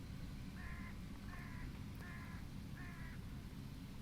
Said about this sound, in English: So there's our neighbours, the family of crows.